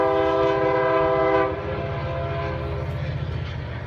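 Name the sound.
freight train passing with horn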